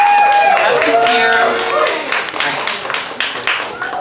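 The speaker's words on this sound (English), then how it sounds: "please give a round of applause for our contestants here." An audience applauds drag contestants on a competition stage, dense clapping spreading across the room and tapering slightly, with voices and cheers mixed underneath.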